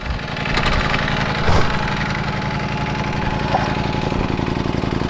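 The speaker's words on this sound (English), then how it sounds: "Si Brother Kwek motor! Andito na siya!" A Ducati V4 Speciale motorcycle engine runs steadily nearby, a continuous mid-pitched rumble with a brief swell in loudness early on and no talk over it.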